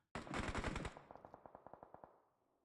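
Gunfire in the mobile game PUBG Mobile: a dense, rapid automatic burst, followed by a steady series of evenly spaced single shots that fade as they go.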